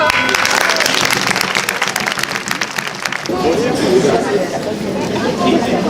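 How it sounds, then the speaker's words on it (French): Applause and crowd chatter at an Easter gathering, a broad wash of clapping that swells and thickens after a few seconds, with voices talking through it. "On peut l'applaudir bien fort."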